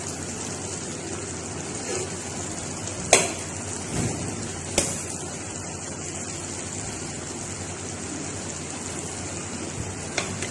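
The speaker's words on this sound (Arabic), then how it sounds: "اقلب العيش مع الدياي." Rice and chicken being stirred in a pot, a soft continuous scraping and shuffling with a few sharp knocks against the pot, close and steady with no talk.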